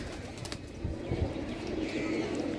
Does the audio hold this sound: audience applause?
no